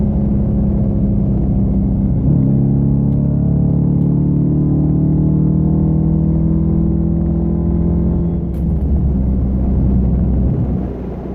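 A Hemi-powered car fitted with a new throttle pedal controller in sport mode, giving a loud sustained engine rumble with rising and settling tone as it accelerates, heard from inside with no talking.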